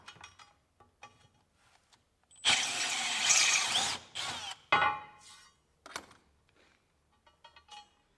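A power drill whirs in a few loud bursts of a couple of seconds each, separated by quieter clicks and handling noises.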